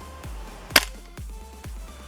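A GHK G5 gas blowback airsoft rifle fires a single sharp, loud shot that stands clear of a steady low background hum, with a few fainter clicks around it.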